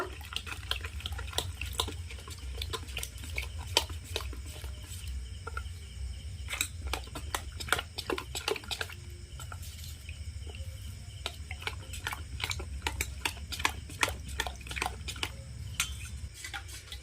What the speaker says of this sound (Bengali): এবার অল্প অল্প জল দিয়ে একটা ঘন ব্যাটার তৈরি করে নেব।